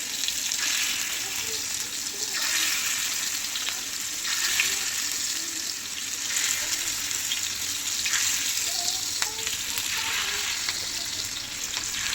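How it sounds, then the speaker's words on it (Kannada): Prawns fry in a pan of hot oil, giving a steady, continuous sizzle with occasional stirring clicks and faint water-like crackle throughout. "ಈಗ ನೋಡ್ರಿ ಫ್ರಾನ್ಸ್ ಫ್ರೈ ಮಾಡೋಕ್ಕೆ ಹಂಚಿಟ್ಟೇನ್ರಿ"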